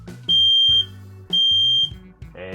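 A newly installed RV smoke alarm, fitted with a 9-volt battery, sounding during a test: two loud, piercing, steady high beeps about a second long each, separated by a brief gap, close to the listener.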